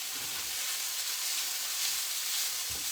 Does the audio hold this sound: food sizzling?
yes